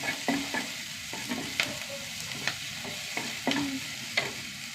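Crushed ginger and garlic fry in a heated pan while a spoon scrapes and stirs at a regular pace, sharp clinks and scrapes over a continuous low sizzle, close and fairly quiet, no voices.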